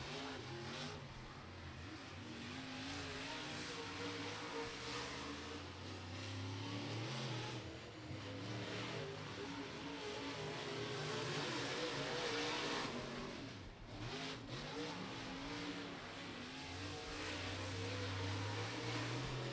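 Race car engines roar around Beckley Motor Speedway during qualifying for the Mountaineer 50, a steady loud drone of a car working through turns three and four, with no talk over it.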